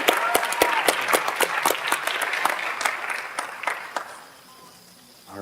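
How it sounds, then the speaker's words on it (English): A room of people at a school board meeting applauds, brisk clapping that gradually thins out and fades to quiet near the end. "Let's give Emma another round of applause."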